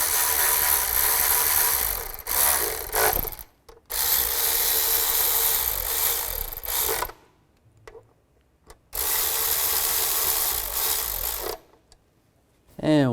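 Ratchet snugging down bolts on a 2005-2010 Chevrolet Cobalt, loud, rapid clicking bursts of a few seconds each, separated by short silent pauses, close by with no talk.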